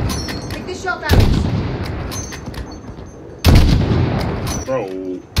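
Two loud, booming sniper rifle shots ring out in the video game Modern Warfare, spaced a couple of seconds apart, each with a long echoing tail, while voices speak between them.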